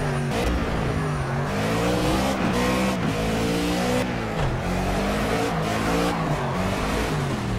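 A race car engine in the video game Project Cars revs and shifts through rising and falling gear runs, with tire squeal through corners, loud and continuous.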